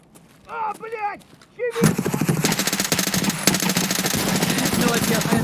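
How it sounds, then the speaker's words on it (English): Gunfire from two other guns in the shooter game Escape from Tarkov erupts as a fast, dense rattle of shots that runs steadily after a brief voice at the start. "As you can hear, there were two other guns firing"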